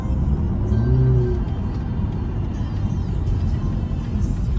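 A 2022 BMW 330i drives through a tight turn, a steady low engine and road rumble from inside the cabin with a faint rising whine early on, continuous and fairly loud.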